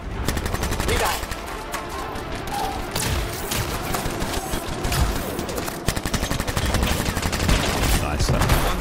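Sustained automatic gunfire in Anthem as players shoot at enemy turrets, a loud, relentless stream of rapid shots with heavy thuds and impacts mixed in throughout.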